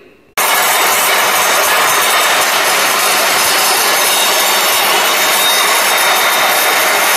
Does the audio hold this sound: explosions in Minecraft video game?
no